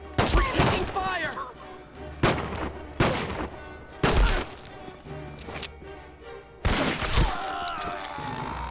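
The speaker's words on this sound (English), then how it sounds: "We're taking fire!" Bursts of gunfire from the Medal of Honor video game, set in Japanese-occupied Singapore, crack out in loud repeated volleys about every second, with chatter and game sounds between them.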